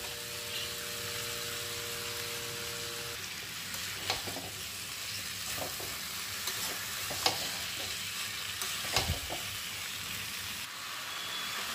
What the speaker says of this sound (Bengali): কাবলি ছোলাটা দিয়ে দিচ্ছি, দিয়ে কষিয়ে নেবো একটু ভালো করে।